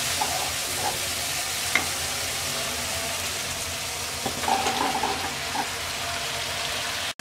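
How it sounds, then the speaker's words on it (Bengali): Potatoes and eggplant frying in a spice paste in a pan, a continuous close sizzle with occasional scrapes and stirring clinks and no talking. "এবার আলু বেগুন দিয়ে 5 মিনিট কষিয়ে নেব।"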